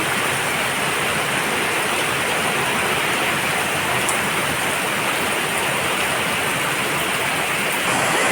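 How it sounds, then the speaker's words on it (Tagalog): Heavy rainwater pours and gathers around a house during a sudden downpour, a dense, steady hiss of falling water and runoff that stays loud and unbroken throughout. "Grabe ang tubig ulan, naipon."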